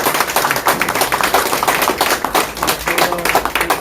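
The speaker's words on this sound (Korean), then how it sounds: "박수!" Audience applause at a political meeting with a presidential pre-candidate, close and loud rhythmic clapping with distinct individual hand claps pulsing quickly and steadily throughout.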